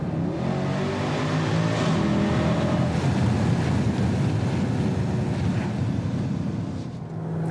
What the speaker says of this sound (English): A lot of people hear the car coming.